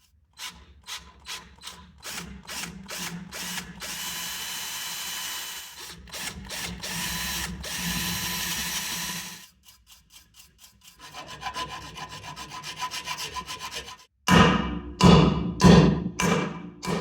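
A drill bores into a snapped bolt in progressively deeper passes, with rapid rhythmic scraping and grinding bursts separated by brief pauses, then heavier thumping, loud and close with no talk.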